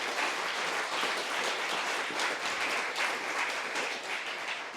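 A crowd at a university startup pitch night and showcase gives a final round of applause, a dense, steady wash of clapping that holds evenly for about five seconds with no talk over it.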